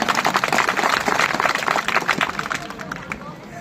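At a Satnami Jayanti gathering in Dhanaura, an audience bursts into dense, vigorous clapping that fills the room, then thins and fades over the last second.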